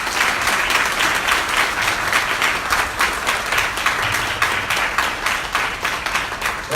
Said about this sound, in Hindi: तुम जितनी भी ताली बजाए उतना अच्छा।